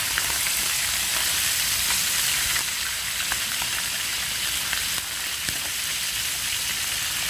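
Steady crackling sizzle of food frying in hot oil, continuous and close, with small pops scattered throughout and no voices.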